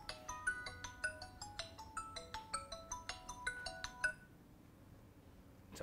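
A mobile phone ringtone plays a quick series of bright, chiming electronic notes for about four seconds, then cuts off into quiet room tone.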